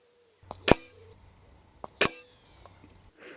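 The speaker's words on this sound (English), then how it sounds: "So we've got 5 shots in there, but they are shooting high." Shots from an FX DRS .177 sub-12 ft-lb air rifle at a 75-metre range: two sharp, close reports about a second and a half apart, each a crisp crack with a short tail, plus fainter clicks and handling noise around them.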